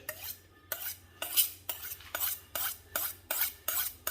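Kitchen knife drawn repeatedly along a honing steel, about eight rhythmic metallic scraping strokes at an even pace, close and moderately loud with no talking.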